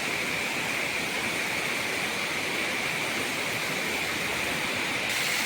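Chingudia waterfall thunders in a constant, dense roar of falling water heard close up, with no voices and no change in level.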